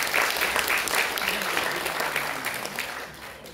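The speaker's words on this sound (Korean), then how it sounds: "다시 한번 큰 박수 부탁드립니다." Steady applause from a seated audience at a political forum's opening ceremony, dense clapping that gradually thins and fades, with a faint voice murmuring underneath.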